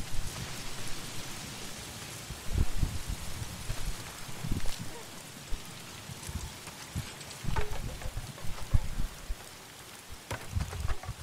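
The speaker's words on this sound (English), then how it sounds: "Why is it always raining?" Rain falls in the video game Days Gone, a continuous soft patter and hiss beneath louder irregular thumps and rumbles, with a voice talking over it at moments.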